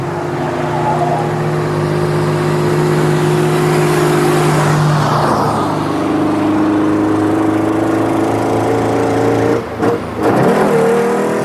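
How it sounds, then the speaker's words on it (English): A venerable Mercedes, entered in a road event, climbs a steep Alpine road, its engine droning loud and steady close by, the pitch shifting as it labours upward, with a brief dip near the end. "for the Lancia Spider, there's still a long way to climb, as there is for a venerable Mercedes entered by 2 British soldiers based in Germany"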